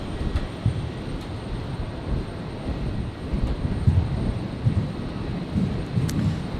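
An airliner taking off from runway 01 right at Brisbane Airport on a stormy night, a continuous low roaring engine rumble with uneven swells, blended with storm noise.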